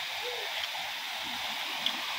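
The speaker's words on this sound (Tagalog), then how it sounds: "So, malakas yung agos doon." The strong current of the San Lorenzo River rushes in a steady, broad hiss of flowing water, constant and fairly close.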